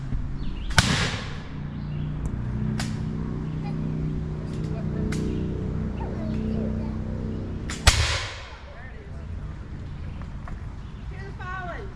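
Two sharp, loud musket volleys at a historical firing demonstration, one early and one near the end, each echoing briefly over steady crowd murmur and voices.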